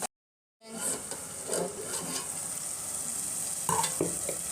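Tomato and onion paste seasoned with salt and turmeric cooks in a pan for mutton curry, a steady close sizzle and frying hiss with occasional stirring scrapes, no voices.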